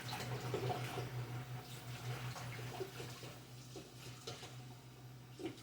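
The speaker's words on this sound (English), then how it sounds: "Wash out a spatula here." A spatula washed under a running kitchen tap: a faint, steady stream of water with a low hum underneath and soft splashes as the utensil moves through the flow, with no speech.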